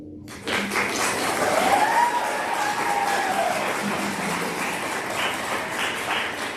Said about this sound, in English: You can definitely clap for the students, for sure.